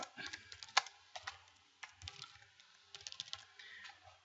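Typing on a computer keyboard while writing text into a resource editor, close bursts of quick key clicks broken by short pauses, with no talk.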